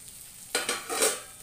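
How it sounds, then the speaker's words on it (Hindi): Stuffed okra masala sizzling in a pan over low gas, with a few soft stirring scrapes and gentle frying crackle, quiet and close. "और अभी बंद करके स्लो गैस पे पका देंगे।"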